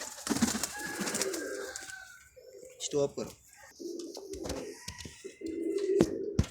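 Pigeons coo in a low, repeated burble at close range, with short calls scattered through the clip while someone speaks briefly over them.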